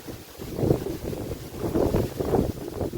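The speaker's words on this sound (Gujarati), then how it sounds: "અત્યારે પવન છે જોરદાર" Strong storm wind during a rainy cyclone, gusting and buffeting the microphone in rough surges, loud and close with no other sounds.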